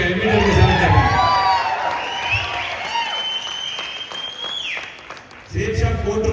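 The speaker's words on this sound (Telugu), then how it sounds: "ఉద్యోగం వస్తే క్లాప్స్ కొడుతున్నారు." An audience at an indoor gathering bursts into applause with scattered cheers and whoops. The clapping is loud and dense, then fades out briefly before a fresh burst starts near the end.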